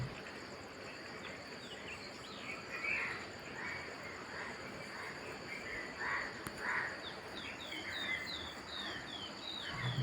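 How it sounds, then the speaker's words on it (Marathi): Faint bird chirps come and go over a steady background hiss of insects on a quiet village morning outdoors. "सकाळची ही प्रसन्न वेळ, पक्ष्यांचा किलबिलाट"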